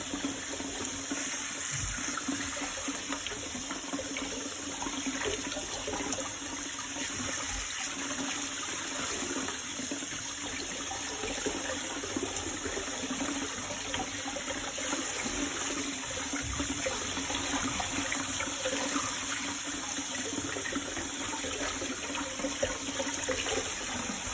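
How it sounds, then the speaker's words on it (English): Steady running tap water pours without a break over dried kapenta (matemba) fish in a sieve, an even splashing rush that carries on throughout with no talk. "you must make sure that you have running water for this process to make sure that they are clean"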